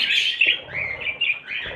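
A budgerigar chirps in quick, bright bursts, several short high tweets and warbles in close succession, near and fairly faint, with no talk.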